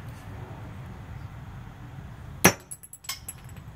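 A hammer comes down on a plastic bird among broken glass: quiet room tone, then one sharp, loud crack followed by a few small glassy clinks and rattles.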